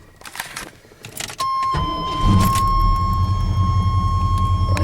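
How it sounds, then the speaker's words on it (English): A 1985 Chevy C30 truck's carbureted engine cranks briefly, then catches and settles into a steady, close idle rumble, with a sustained whine running over it. "It cranks up, idles good."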